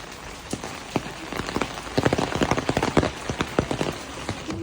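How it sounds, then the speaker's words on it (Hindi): Heavy rain pours steadily in Dimapur, Nagaland, with dense spattering drops hitting a surface and growing louder partway through. "जबरदस्त बरसात हो रही है।"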